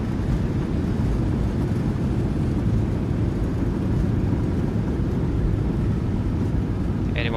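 Thrust reversers roar on a PMDG 737-800 during its landing rollout in Microsoft Flight Simulator 2020, a dense, steady wash of engine noise with no break, and a faint brief tone right at the end.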